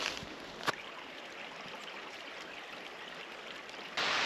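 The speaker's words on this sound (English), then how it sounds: "it's below me and it's flowing really well after all those storms" Wade's Waterfall on the Alabama Pinhoti Trail, running strong after storms and lying below a hiking path, makes a steady broadband rush of falling water throughout, with a brief knock early on and a louder surge at the end.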